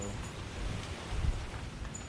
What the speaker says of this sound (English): it's so windy, right?